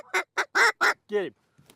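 Ducks flying over a duck hunt give a quick run of loud honking quacks, four or five close calls in a row followed by a fainter one, with no talk over them.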